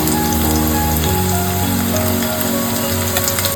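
Onion paste with chopped onions and garlic paste frying in oil for chicken vindaloo, a loud dense rain-like sizzle that hisses steadily and close up throughout, with no voices.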